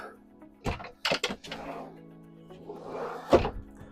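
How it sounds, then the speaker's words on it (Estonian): Self-closing kitchen drawers in a Carthago Chic C-Line 4.9 motorhome slide shut with several soft thunks and knocks, close by in a quiet interior, with a brief vocal murmur between them. "Muidugi siis neid isesulguvaid sahtleid kogu köögi ulatuses, mis on tõesti mahukad."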